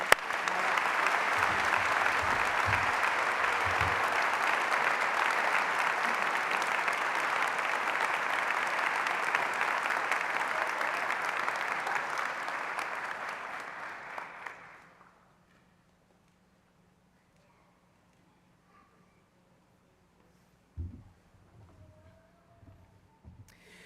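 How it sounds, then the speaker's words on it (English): Audience applause fills a medical school hooding and commencement ceremony hall, steady and sustained for about fifteen seconds before fading out, followed by near silence and a couple of faint thumps. "Let's give them a round of applause, please."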